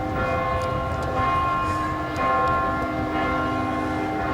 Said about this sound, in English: with the tolling of the bells in the background